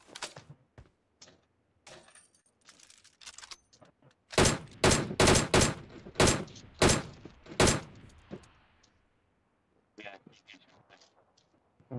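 A bomb thrown in the mobile battle royale BGMI goes off amid a rapid burst of loud, sharp gunfire-like blasts in the middle stretch, with quieter clicks and game noises before and after.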